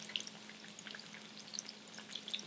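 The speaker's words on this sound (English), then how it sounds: "So now, off in the frying pan." Schnitzel fries in a pan with a steady, soft sizzle and scattered tiny pops and crackles of hot fat, heard close and alone without any talk.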